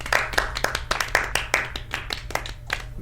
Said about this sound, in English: Round of applause to you all.